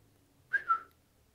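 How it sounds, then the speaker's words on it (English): A short two-note electronic Twitter notification chirp, bright and whistle-like, rising then falling, heard alone against near silence. "It's my Twitter sound."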